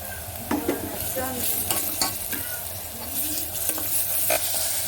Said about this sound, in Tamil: இது கிளறி விட்டதுக்கப்புறம் அது கூட தக்காளியை சேர்த்துக்கலாம்.